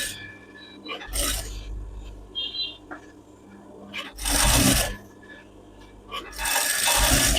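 A sewing machine stitches a fabric collar strip for a high neck stand collar, running in three separate bursts of close, loud whirring with quieter handling sounds between them.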